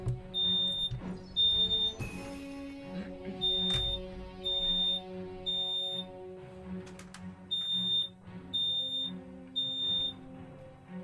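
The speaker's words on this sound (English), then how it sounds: "fire alarm just went off" A fire alarm sounds indoors during an online Spellweaver card game tournament, a loud high electronic beep repeating in steady short bursts over a constant background hum, with no talk.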